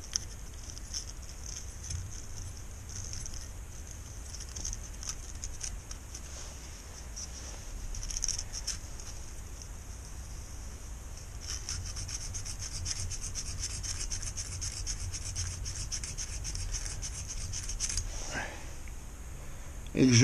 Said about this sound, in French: et que je ponce en faisant tourner l'axe, on retrouve du cuivre.